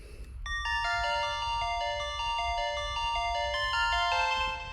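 A synthpop arrangement of Mozart plays bright, bell-like synth notes in a quick melodic line, with a higher layered part sounding on top of the middle voice, clear and continuous without talking.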